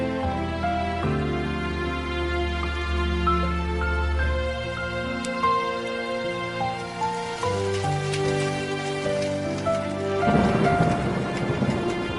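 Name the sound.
rainstorm with rain and thunder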